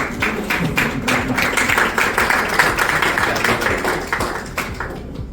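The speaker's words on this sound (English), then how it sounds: "let's give them a round of applause" An audience applauds international organizations at a talk by a special envoy for Bangladesh, with dense, steady clapping that continues evenly for several seconds before starting to taper.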